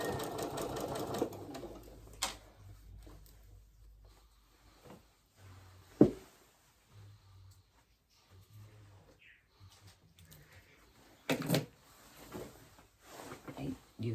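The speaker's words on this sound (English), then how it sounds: "And then start sewing around." A sewing machine runs in short bursts while stitching through pinned fabric for a McCall M8256 garment, its mechanical whir rising briefly over quiet pauses, with a soft voice talking in between.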